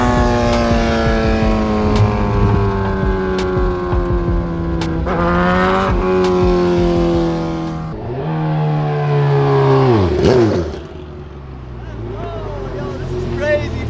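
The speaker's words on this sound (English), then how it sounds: "That's a loud bike." A loud motorbike races and revs close by, its engine pitch climbing and dropping through shifts in a steady roar, then falling away before rising again near the end.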